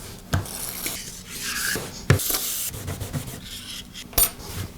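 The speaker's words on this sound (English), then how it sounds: "I'll use some brake cleaner to remove the rest of the adhesive from the platen." Brake cleaner being scrubbed over the adhesive-coated platen of a Makita belt sander, producing close, steady rubbing and scraping strokes with a few sharper scuffs, heard alone.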